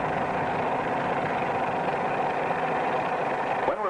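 A 1945 propeller airplane's engine drones steadily and loudly as the nose rises into a climb, its pitch shifting slowly, with no one speaking.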